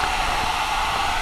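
A hair dryer blows out small disassembled Kel-Tec SU16 rifle parts and the spring tube, a steady loud, close rushing whoosh of air with no break.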